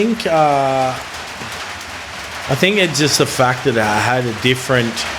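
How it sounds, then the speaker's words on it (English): Steady rain falls outside in cold weather as a constant hiss beneath someone talking, the wash of drops continuing throughout. "It's just raining a bit."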